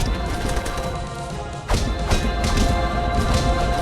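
Repeated thuds and whooshing strikes from Castle Crashers melee combat, several impacts in quick succession over a dense, busy game soundscape.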